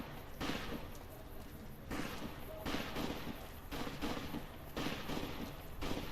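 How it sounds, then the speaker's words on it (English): Distant gunfire rings out in Fallout: New Vegas, with repeated broadband bursts over a steady rumble of game ambience. Some bursts carry a ringing tail. "Oh, you can already hear the gunfire."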